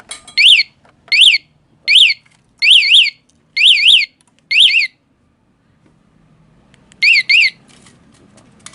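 Remote alarm fitted to a 2019 Honda Beat ESF motorcycle sounds six sharp warbling chirps in an even rhythm, goes quiet, then gives two more quick chirps.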